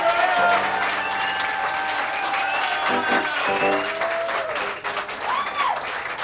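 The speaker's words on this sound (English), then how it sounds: "you gotta give her a bigger applause" An audience at a live cabaret show at the Duplex in New York City claps steadily throughout, mixed with sustained musical tones and crowd noise.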